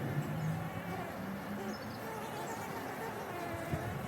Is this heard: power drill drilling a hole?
no